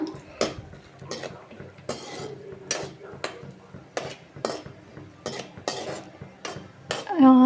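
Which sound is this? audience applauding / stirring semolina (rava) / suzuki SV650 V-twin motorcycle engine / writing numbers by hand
stirring semolina (rava)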